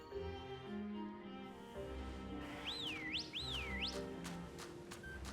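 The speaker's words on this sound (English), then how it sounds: "I just love whistling." A person whistles two quick rising-and-falling swoops in a row, clear and moderately close, over a quiet bed of game background music.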